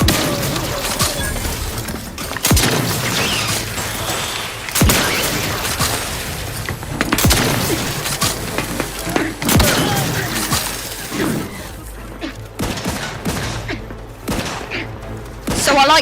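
Gunfire from a weapon in Outer Worlds 2 comes as repeated sharp, loud bursts with irregular gaps over about sixteen seconds, mixed with thuds and mechanical clatter.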